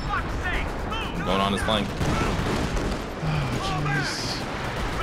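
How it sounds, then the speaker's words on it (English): Artillery barrages and gunfire in a Company of Heroes 4v4 match on Hill 400, dense booms and rattling shots layered across the scene under a voice calling out orders. "I'm hitting it with artillery."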